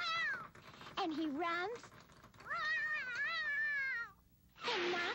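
A cat meows repeatedly in a 1975 Sesame Street episode, several drawn-out, wavering cries in separate bursts, close and fairly clear, with a person talking briefly between them.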